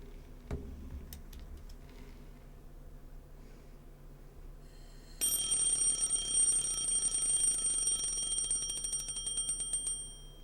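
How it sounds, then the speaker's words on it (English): Video game alarm clock bursting into a shrill, rapid metallic ringing midway after a quiet stretch, loud and continuous for several seconds before trailing off, with no voices. "The alarm clock makes a terrible racket."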